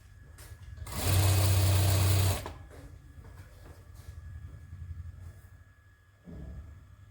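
A sewing machine stitches a lined salwar suit in one loud, steady burst lasting about a second and a half, then falls quiet. Faint handling noises follow, with a soft thump near the end.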